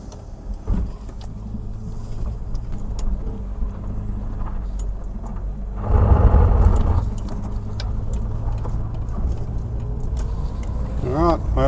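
Ford XA Falcon engine running on its first drive in 16 years, a steady close idle with a brief louder surge near the middle and a thin whine toward the end, heard from inside the car.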